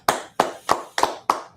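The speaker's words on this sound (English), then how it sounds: "Clap it up" Five slow, evenly spaced hand claps from an audience at a Harlem Israelite school gathering, each sharp and clear with a short decay, coming in a steady unison rhythm with no talk over them.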